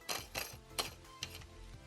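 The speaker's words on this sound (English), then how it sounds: "there's also a clamp here at the bottom, so you can unscrew the clamp" A plastic clamp on a phone holder is unscrewed, giving a few quiet, separate clicks and ratchet-like ticks spaced about a second apart in a quiet room.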